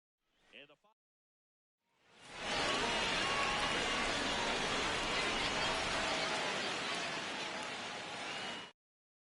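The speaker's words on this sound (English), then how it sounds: "MLB The Show brings you baseball on a rainy night." Steady heavy rain falls over a baseball stadium in MLB The Show, a dense even roar that starts just after a brief spoken phrase and runs unbroken until it cuts off.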